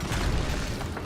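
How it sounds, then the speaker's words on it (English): A single cannon shot in Spyro's Adventure, a low rumbling boom that fills the whole clip at moderate loudness with no distinct sharp onset, heard alone without voices. "Fire the cannon."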